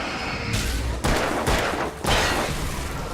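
Gunfire in the Alan Wake video game: a few loud, close shots, each a sharp broadband crack with a short decaying tail, set roughly half a second apart over a steady background.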